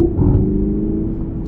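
A Hyundai Ioniq 5 N in sport mode gives off a low, steady synthetic engine drone and rumble, close and moderately loud, holding level for a short moment.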